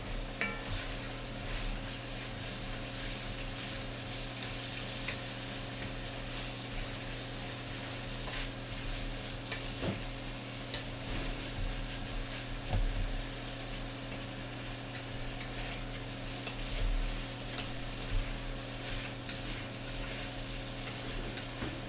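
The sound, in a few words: vegetables being stirred and sizzling in a pan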